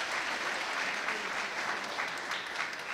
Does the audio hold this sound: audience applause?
yes